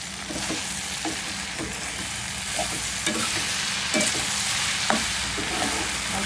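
Okra frying in a pan, a steady loud sizzle broken by repeated scraping stirs of a spatula, close and continuous with no voices.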